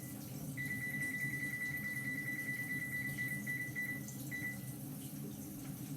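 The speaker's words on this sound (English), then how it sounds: "And my water is running in my sink." A sink tap runs steadily with a soft, constant hiss of water, faint and unbroken, with a thin whistle for a few seconds.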